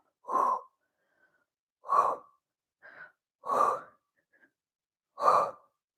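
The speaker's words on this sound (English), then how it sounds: "Here we go, deep breath in and exhale." Deep breaths in and out during a Pilates exercise, four strong close exhales at a steady slow rhythm with a softer breath between, clear against silence.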